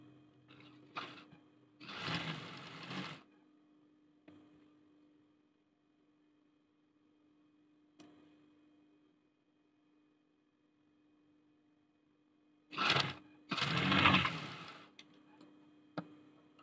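A sewing machine stitches a pocket onto boys' school uniform shorts in two short runs of steady mechanical whirring, separated by a long quiet pause with faint ticks and no talking.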